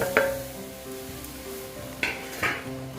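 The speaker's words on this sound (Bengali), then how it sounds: "এখন আমি সুজিগুলো দিয়ে দেবো ভাজা সুজিগুলো দিয়ে দেবো" Roasted semolina being stirred into boiling water in a pan for halwa barfi: soft scraping and stirring with a low simmer underneath, punctuated by three sharp clinks of a utensil against the pan.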